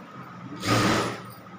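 A sewing machine stitches the folded end of a cloth bag handle in one short, close burst of about half a second, set between quiet stretches with no voices.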